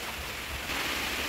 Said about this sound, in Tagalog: Pasensya na kayo sa ingay ng ating bubong mga ka-audio.